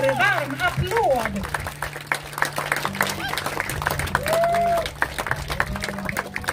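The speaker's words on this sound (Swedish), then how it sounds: "En stor varm applåd!" A crowd claps for the winner at a Swedish strongwoman nationals event in the under-82 kg class. The applause is steady and mid-distance, heard beneath an announcer speaking over a loud PA with music.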